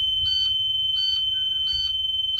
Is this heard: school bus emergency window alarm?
yes